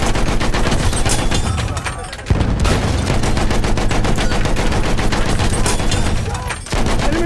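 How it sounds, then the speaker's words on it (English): Enemy machine gun fire in the video game Battlefield 1 during a Galicia operations battle, loud rapid bursts of continuous gunfire with two brief pauses between the long volleys. "There's an enemy machine gun."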